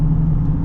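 AEV Colorado ZR2 Duramax diesel truck pulling at partial throttle, a loud, close, steady low engine drone with no talk over it.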